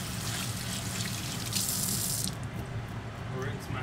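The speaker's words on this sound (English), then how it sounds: "I'll rinse my hands real quick" Tap water runs steadily into a kitchen sink as hands are rinsed of flour after breading cod fillets, a continuous close hiss that shifts in tone partway through as the flow is interrupted.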